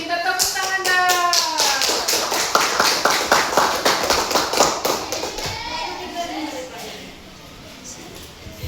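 A classroom of children claps together in a burst of rapid, overlapping hand claps that run for several seconds, with kids' voices talking and calling out alongside before the clapping fades into chatter.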